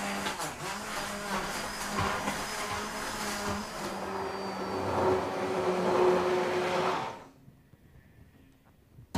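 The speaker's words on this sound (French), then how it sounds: "on prend un mixeur, n'importe lequel, et on mixe" An electric blender purees a vegetable soup, its motor whirring loudly and steadily for about seven seconds, the pitch rising as the load eases, then cutting off abruptly into near silence.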